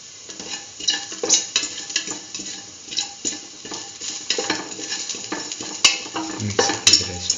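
Spoon scraping and clinking against a pot as salted fennel and nigella seeds are stirred into a split chickpea and yam stew, with irregular stirring knocks over a soft sizzle.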